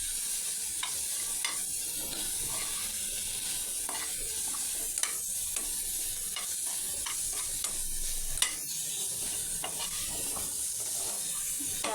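Bread corn sandwich filling frying in a pan, a steady bright sizzle throughout with repeated light spatula scrapes and taps as it is stirred, close and continuous.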